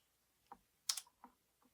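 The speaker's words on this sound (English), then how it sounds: "I'm just going to type in delete" Four or five separate keystrokes on a computer keyboard, close and fairly quiet, with short pauses between taps and no one speaking.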